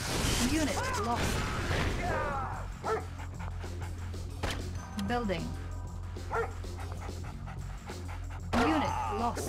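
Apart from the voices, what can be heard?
attack dog barking in video game Red Alert 2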